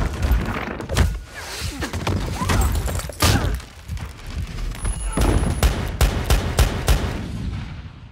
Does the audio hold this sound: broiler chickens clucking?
no